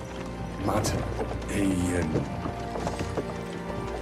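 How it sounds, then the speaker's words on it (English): Horses pull a carriage in Kingdom Come 2, with irregular hoof clops, rattling mechanisms and knocks mixed together at a moderate level while voices speak over them. "Seriously, whip those fucking horses."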